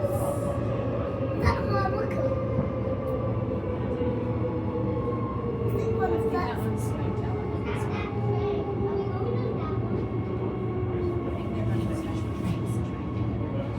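Electric passenger train on the Ellenbrook Line standing at a station platform, a steady low rumble and hum with faint clanks and hiss, moderately distant.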